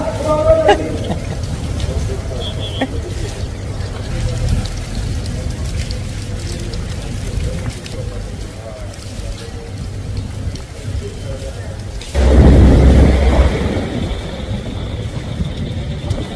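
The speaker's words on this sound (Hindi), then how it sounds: "सुबह सुबह बारिश हुई" Rain falls steadily outdoors, a broad hiss on surfaces throughout, with traffic rumbling underneath and a louder low-heavy surge near the end.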